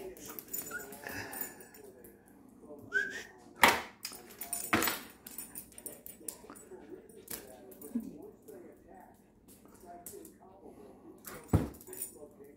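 A dog whimpers and yips in short bursts amid talking, with a few sharp clatters and jingles nearby.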